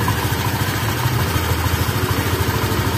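A Honda Vario 125 scooter engine idles close by while warming up, its steady, even putter thrumming loudly without any talking.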